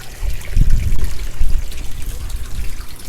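Water trickles and splashes steadily into a 17-gallon tote filled with clay balls in a backyard pond grow bed, a close, continuous low gurgling flow with no talking.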